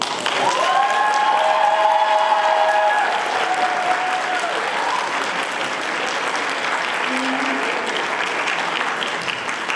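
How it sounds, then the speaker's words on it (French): A debate competition final crowd in Lille breaks into loud, sustained applause that fills the hall, with a few shouts and whistles rising over the clapping early on. "je voulais qu'on l'applaudisse très très fort"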